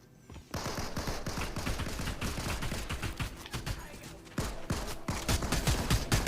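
Rapid SMG fire in Fortnite comes in long, dense bursts of sharp cracks that run nearly continuously, with a short pause before resuming, loud and close.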